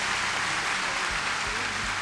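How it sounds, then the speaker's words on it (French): An audience at a Senegalese school prize-giving ceremony applauds in one dense, steady wash of many hands, holding even throughout at a moderate distance. "que je vous prie d'accueillir dans un tonnerre d'applaudissements"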